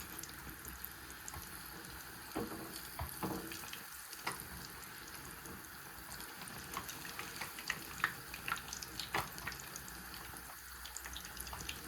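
Puris deep-fry in hot oil at home, a continuous faint bubbling hiss with scattered small crackles and pops, heard from close by at low volume.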